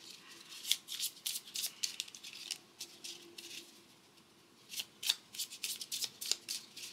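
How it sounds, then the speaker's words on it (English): Quiet, close riffle shuffles of a small tarot card deck, bursts of rapid flicking patter with short pauses between rounds. "So I will do a quick little shuffle with this tiny deck."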